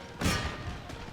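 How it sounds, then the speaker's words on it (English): A cannon booms in the strategy game Empire: Total War during a battle at Rupert's Land, a single muffled thud that rises sharply and then trails off into low rumbling battle noise. "Cannons."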